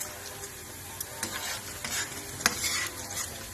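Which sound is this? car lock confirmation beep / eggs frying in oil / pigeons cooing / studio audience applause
eggs frying in oil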